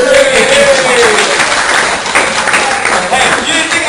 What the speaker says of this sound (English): Let's clap it up for Jay Feridian